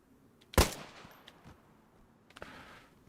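Firearms going off in a zombie video game: one sharp, loud shot followed by a decaying tail, then a softer burst of a few quick reports near the end, with quiet gaps between.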